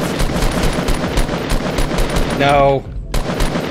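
Automatic gunfire in competitive Fortnite gameplay, heard as loud, rapid repeated shots throughout, with a brief tonal sound near the end, a short pause, and then more firing; a voice speaks briefly.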